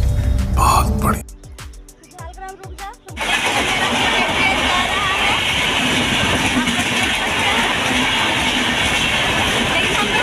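Passenger train running on rails, heard from inside with a steady loud rumble and rattle that fills most of the stretch after a brief burst of clatter and voices near the start.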